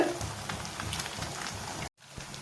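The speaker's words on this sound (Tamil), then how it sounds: "அடுப்பை சிம்மில் வச்சுட்டு முட்டையை உடச்சி ஊற்றிட்டு மேலே உப்பு போட்டுட்டு" An egg fries in a pan over low heat with salt sprinkled on top, giving a steady dense crackling sizzle close by that cuts out briefly near the end and then resumes.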